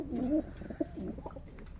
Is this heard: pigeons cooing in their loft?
yes